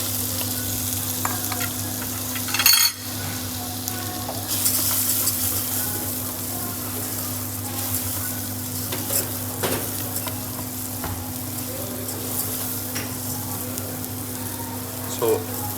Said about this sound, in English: we're gonna toast the rice